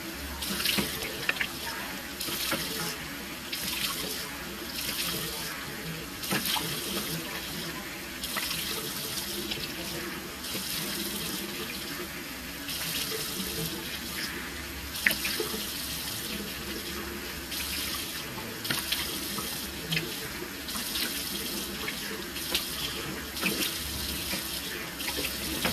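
A bathroom sink tap runs steadily during a night-time face wash, close and continuous, with faint splashing and handling noises as water is scooped up.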